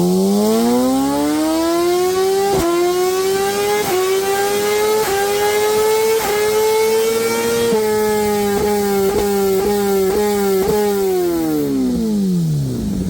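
A brand new Suzuki GSX-R 1000 motorcycle engine revs hard on a dyno, its loud, steady wail climbing in pitch through quick gear-like steps before easing back down, close and continuous, with no talking.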